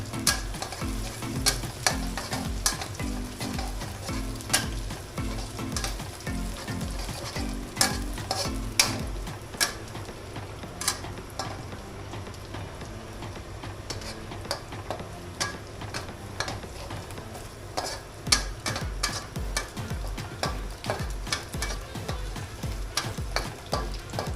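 Chili and garlic stir-fried in a pan for a Thai spicy fish dish: steady close sizzling runs throughout, broken by frequent sharp clicks and scrapes of a utensil against the pan in an uneven rhythm, with no talking.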